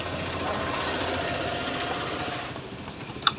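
A Bajaj Pulsar 125 BS6 motorcycle engine runs steadily at idle with a fast, light mechanical chatter, close by and alone, fading slightly near the end.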